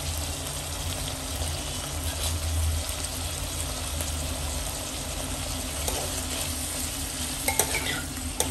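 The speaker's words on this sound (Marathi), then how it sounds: "आणि आता मी तेलात परतून घेते." Marinated prawns frying in oil in a home kitchen for prawn masala, a steady loud sizzle running throughout with occasional faint stirring and utensil clinks near the end, no voices.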